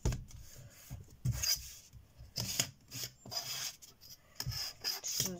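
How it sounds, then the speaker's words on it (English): Fingers rub over a glued paper origami mini book to press it down, giving several short, dry scraping strokes in uneven bursts with quiet gaps between them, close and fairly soft. "rub it on it just so the glue can bond to it"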